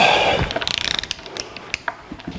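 A torque wrench ratchets as it tightens bolts on a Dana 300 transfer case from a 1982 Jeep CJ7 to 35 foot-pounds, producing a quick close run of sharp clicks followed by a few separate clicks.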